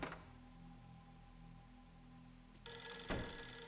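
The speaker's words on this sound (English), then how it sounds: "Oh. The phone." In the horror video game Fatal Frame III, a telephone starts ringing partway through a quiet, humming room tone, its bright electronic ring cutting in suddenly and continuing, with a soft thunk near the start.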